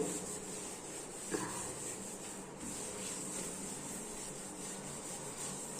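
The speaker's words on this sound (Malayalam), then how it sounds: "ഇതുപോലെ ചെറുതായിട്ടൊന്ന് സ്ക്രബ് ചെയ്ത് കൊടുത്താൽ മതി അഴുക്കെല്ലാം പോകുന്നതായിരിക്കും" A hot tawa is scrubbed lightly to lift off dirt, giving a faint, continuous rasping rub with one brief louder scrape partway through.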